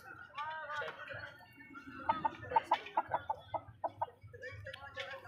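An Aseel rooster clucks up close, first a few loose calls, then a rhythmic string of about nine sharp, evenly spaced clucks before it trails off.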